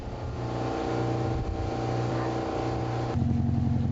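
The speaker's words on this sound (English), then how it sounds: "I departed from Crisfield, Maryland's crab capital, on a 40-minute ferry ride across the Tangier Sound." Steady low diesel drone of a passenger ferry crossing Tangier Sound from Crisfield, Maryland, a continuous engine hum with a slight rise in power near the end.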